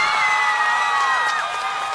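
Crowd cheering and applause for a band at the Fiesta del Choclo in Hualqui, with high shouts and whoops over a steady roar of the audience.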